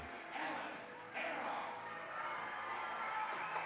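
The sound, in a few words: home crowd cheering as Cardinals are introduced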